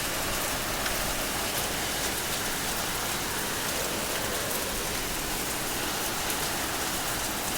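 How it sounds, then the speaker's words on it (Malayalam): Hail pelts down in a dense, unbroken patter of ice pieces striking the ground and nearby surfaces, loud and continuous throughout with no voices. "ഐസ് മഴ, ഇതാ ഐസ് കട്ടകൾ എത്ര എണ്ണം വീഴുന്നു പറയും."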